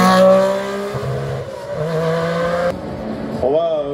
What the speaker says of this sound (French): William Barrett à l'instant sur la Honda Tipper